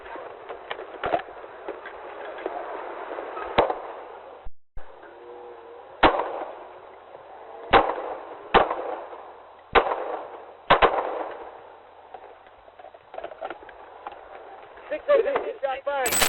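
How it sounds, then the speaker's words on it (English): Several sharp gunshots ring out one at a time during a police encounter on the street near La Brea and Beverly, fired at a police car amid radio chatter and shouting, with irregular gaps between the loud cracks. "shot fired"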